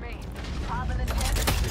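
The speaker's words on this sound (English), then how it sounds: "What are they shooting at you?" Gunfire in a video game comes as rapid, harsh bursts of shots that crackle over a rumbling background, with voices talking in the mix.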